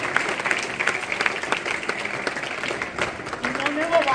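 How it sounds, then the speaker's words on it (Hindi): Audience clapping at a computer center inauguration in Noida Sector 31, steady applause filling the clip with a voice speaking over it near the end. "तो इनका ताली बजा जाके जोर से अभिनंदन हम करेंगे।"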